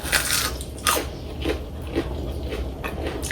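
Teeth bite into a golden brown fried dumpling, giving a few close, sharp crunches spaced about half a second apart, followed by softer chewing crackles.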